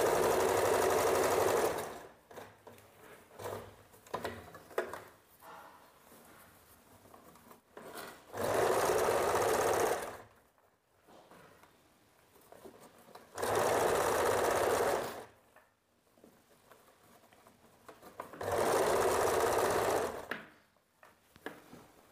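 A sewing machine stitches the waistband of a blouse in three or four bursts of steady whirring, each a few seconds long, separated by quieter handling and fabric rustles.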